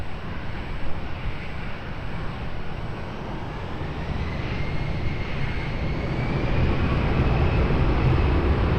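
A fixed-wing aircraft takes off from runway 20 at Lisbon Airport, its engines giving a loud, steady roar mixed with wind that builds toward the end.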